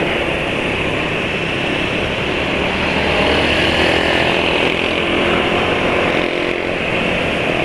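A healthy motorcycle engine idles steadily and up close, a continuous loud mechanical drone with no talk over it, as someone listens for the condition of its oil.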